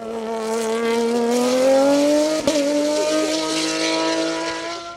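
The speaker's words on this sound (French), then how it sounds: "dans la classe CN3 pour Xavier Vermeil, le pilote suisse si imposant grâce à sa Norma M20 F3 litres." A 3-litre Norma M20 F sports prototype accelerating up a mountain hill climb course, its engine note climbing steadily and loudly through the gears with a brief shift near the middle, no talk over it.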